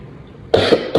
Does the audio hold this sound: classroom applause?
no